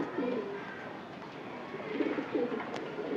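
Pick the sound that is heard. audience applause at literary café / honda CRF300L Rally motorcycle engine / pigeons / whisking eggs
pigeons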